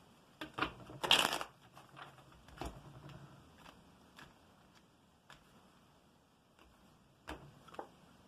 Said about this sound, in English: One more shuffle and a cut.